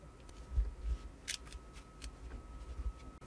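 Packaging of a Motorola Moto g Pro smartphone being opened: faint crinkles, soft scrapes and a few brief sharp clicks and rustles of cardboard and plastic against a quiet background.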